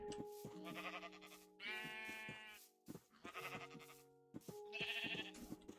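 Sheep in Minecraft bleat repeatedly, several loud, wavering synthetic cries in bursts with short pauses between them and no talking.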